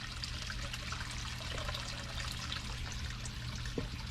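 Pond water drains out of a fish scoop net in a backyard pond, a quiet, continuous trickle and dribble over low background hum, ending with a small splash.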